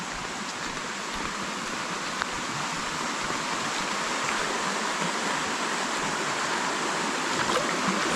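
A stream runs steadily in the countryside near farm fields, a continuous bright rushing and babbling of water, close and even in level, with no voices over it.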